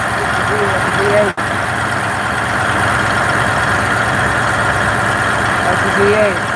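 A truck with a Caterpillar V8 diesel engine idles at a steady, continuous low rumble, close by and loud, with a crowd of voices and talk over it during a convoy gathering.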